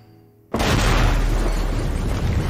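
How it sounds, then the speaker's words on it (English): A bomb blast from the animated series What If erupts suddenly after a quiet moment, then a loud, sustained rumbling roar continues for a couple of seconds. "Okay, so the bomb's still going off, though."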